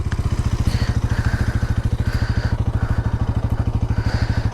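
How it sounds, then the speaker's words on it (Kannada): A Bajaj Pulsar NS200 motorcycle idles just after starting, its exhaust thumping in a steady, loud, rapid rhythm close by, with no talk over it. "ಎಕ್ಸಾಸ್ಟ್ ಸೌಂಡ್ ಕೇಳೋಣ ಬನ್ನಿ."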